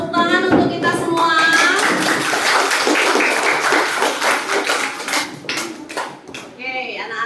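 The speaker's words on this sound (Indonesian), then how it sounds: "Tepuk tangan untuk kita semua." Children in a classroom clapping together, a loud, dense burst of applause that thins out toward the end, with a teacher's voice over the start and end.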